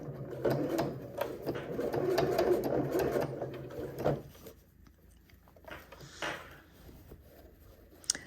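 A sewing machine stitches a fabric band with a steady, close mechanical whir for several seconds, then slows to quieter, intermittent runs and small handling noises.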